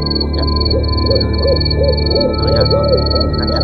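An owl hoots repeatedly in a steady rhythm of short, rounded calls, close and clear over a constant background hum and a high electronic whine, with no talking.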